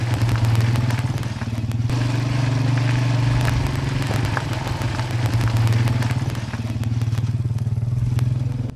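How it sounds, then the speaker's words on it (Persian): Motorcycle ridden along a village route, its engine a loud steady low drone with rumbling pulses and rattles throughout. "پشت موتورسیکل نشستیم و هنوز مسیر را میریم"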